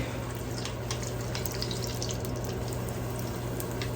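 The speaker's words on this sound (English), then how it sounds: "This will just very lightly fry." Tortillas lightly frying in a pan over slightly raised heat for green turkey enchiladas, giving a steady, soft hiss and faint sputter that carries on evenly throughout.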